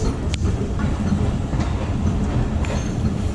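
The Awam Express passenger train runs between Taxila and Gujar Khan with a steady, close rumble of wheels on the rails and faint clicks of the track joints.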